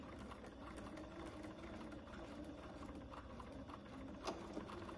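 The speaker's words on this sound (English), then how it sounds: "we're gonna sew using 1/4 of an inch seam" A sewing machine stitches a quarter-inch seam through bag-making fabric and tape, running steadily and quietly from start to finish with a brief louder knock near the end.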